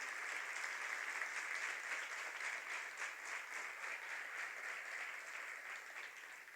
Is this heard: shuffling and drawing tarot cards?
no